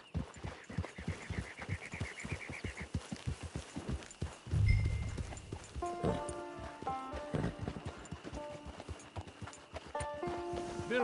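Horse hooves clip-clop at a steady walking pace in Red Dead Redemption 2, close and moderately loud, arriving at a camp, with game music tones and a brief low thump partway through.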